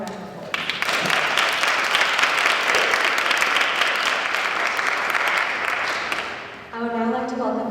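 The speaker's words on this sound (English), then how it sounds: "Please join me in giving them a final round of applause" Audience at a school portrait gallery induction ceremony breaks into a full round of applause, loud steady clapping that swells then tapers off, with a voice starting to speak as it ends.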